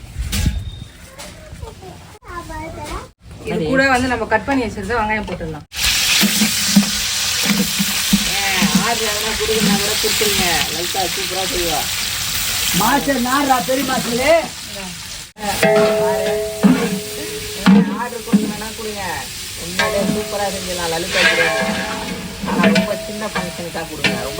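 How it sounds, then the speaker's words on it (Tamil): Biryani cooking with cinnamon, clove, cardamom and fennel, a steady sizzle and occasional stirring scrapes running under frequent conversational talk. "இங்கே பிரியாணி ஆயிட்டு இருக்கு"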